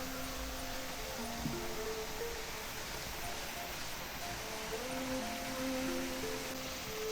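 A valley stream on Dobongsan near Munsadong rushes steadily and continuously, a dense, even wash of flowing water with faint tonal traces underneath and no pauses.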